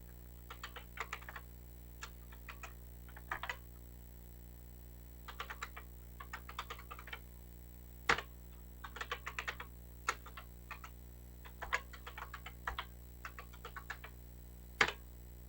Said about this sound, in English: Once in BASIC, type in 2 drive commands to mount the 2 images in drives 0 and 1.